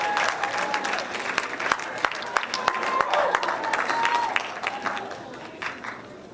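A school awards night audience gives a round of applause for student performing artists in music, theater and dance, steady clapping filling the hall for several seconds with faint voices underneath.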